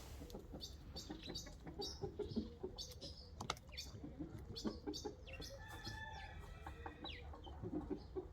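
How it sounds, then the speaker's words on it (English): Wild guinea fowl in an enclosed coop area with ducks nearby, giving repeated harsh clucking calls mixed with other bird chirps, fairly faint and steady throughout. "An absolutely wild guinea fowl that goes into an enclosed area."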